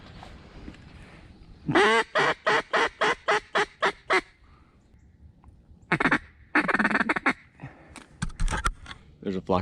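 Mallard ducks on a hunt quack loudly and close in a rapid rhythmic run of about ten calls, then another burst of clustered quacks a few seconds later, with quiet outdoor background between.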